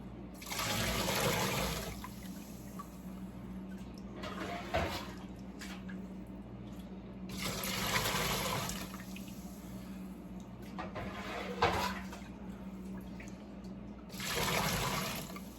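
Running tap water rinses out a cooking pot while chicken and vegetable broth is being made, coming in several separate bursts of splashing flow with quieter gaps between them.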